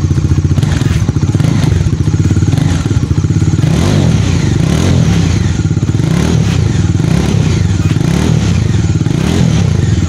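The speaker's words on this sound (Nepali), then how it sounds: "सबैभन्दा पहिला यसको एग्जस्ट को साउन्ड सुनम कस्तो छ।" Bajaj Dominar 400 motorcycle idling with a steady, loud low exhaust thrum and a few light blips, close and continuous with no talk.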